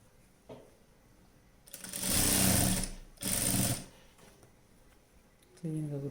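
A sewing machine stitches a night dress in two bursts, a longer whirring run and then a shorter one, close and loud, with quiet handling sounds and a brief voice near the end.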